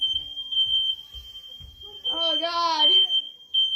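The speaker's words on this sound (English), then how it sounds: "what do you think about the smoke alarm?" A smoke alarm in a vacation home sounds one continuous high-pitched tone, loud and steady, while a voice speaks over it briefly along with low handling thumps.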